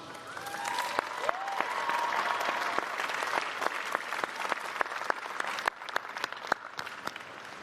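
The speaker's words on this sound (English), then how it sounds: "please join me in a warm round of applause for Bridgewater's finest" A commencement crowd at Bridgewater State University applauds the graduating class, a full, sustained round of clapping with crisp nearby claps and faint whoops or cheers rising early on, thinning somewhat near the end.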